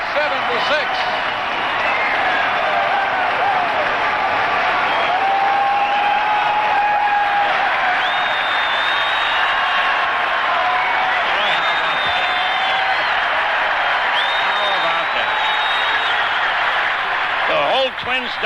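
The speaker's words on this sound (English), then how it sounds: "Twins dugout is out clapping and cheering." Crowd applause and cheering at a 1969 Minnesota Twins baseball game after a home run, a steady roar filling the whole stretch, with a radio announcer talking over it and a few whistles rising above.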